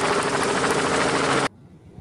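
A toy helicopter gives off a loud, dense whirring rotor noise with a rapid chopping texture. It stops abruptly, leaving near silence.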